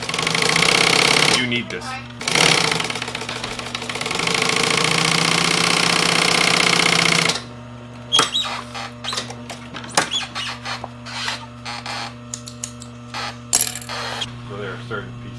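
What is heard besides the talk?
industrial sewing machine running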